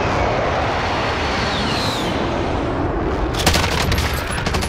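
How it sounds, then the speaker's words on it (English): Gunfire in the battle royale shooter Call of Duty: Warzone, a loud roaring wash of noise breaking into a sharp, rapid burst of automatic shots near the end. "I'm being shot at"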